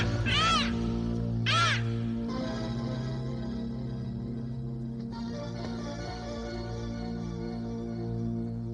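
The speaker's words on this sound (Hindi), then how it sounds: "अरे, ये तोता कहाँ से आ गया?" A parrot in a fantasy drama gives two loud, arching squawks near the start, close and clear over a steady low musical backdrop.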